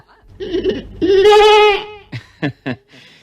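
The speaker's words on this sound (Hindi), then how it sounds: "बीरबल ने एक भेड़ मंगवा कर कहा," A sheep bleats loudly close by, one long wavering cry followed by a few short, clipped bleats, heard alone with no talking.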